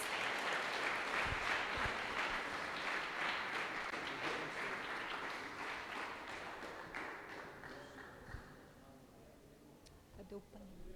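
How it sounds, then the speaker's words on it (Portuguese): A church congregation applauds, a dense wash of clapping that slowly thins and fades over several seconds, with a few sharp taps near the end. "Pode aplaudir o Senhor em nome de Jesus."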